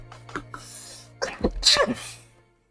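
A single sharp sneeze bursts out after a couple of small sniffing breaths, close and loud, trailing off into quiet.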